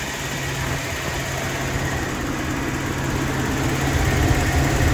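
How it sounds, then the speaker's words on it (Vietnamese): A Zace GL motorcycle engine idles smoothly and steadily at close range, a continuous low rumble with no voices over it. "Giờ máy em ru rồi."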